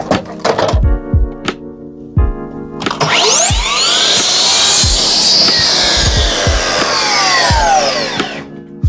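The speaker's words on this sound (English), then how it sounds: "So I kept the miter saw sitting at 45." A miter saw set at 45 degrees cuts wood trim for a mahogany door, with a loud whining spin-up and a sustained high cut lasting several seconds, framed by sharp knocks and taps of handling before and after.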